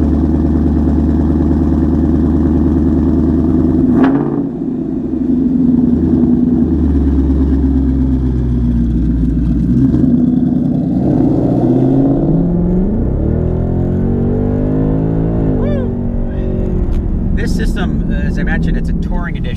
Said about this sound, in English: It's got a Touring Edition exhaust on it.